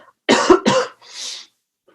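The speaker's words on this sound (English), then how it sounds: "It's this cough." Two sharp, close coughs in quick succession, followed by a softer breathy exhale, then silence.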